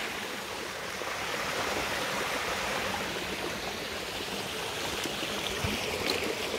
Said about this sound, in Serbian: Najizdašniji vodopad na brani ikada.